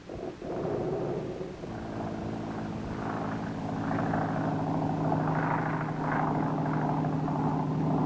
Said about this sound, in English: a chartered airplane was in the air at daybreak with an aerial survey analyzer